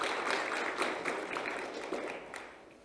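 Audience applause at a public hearing on a development plan for the East Sea coast region, a steady soft patter of many hands clapping, fairly faint and fading slightly toward the end.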